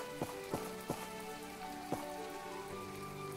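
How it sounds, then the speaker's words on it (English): Rain falling in the video game My Time At Portia, a steady wash of rainfall with a few soft thumps near the start, continuous and fairly loud without speech. "This rain is probably like not good to be in."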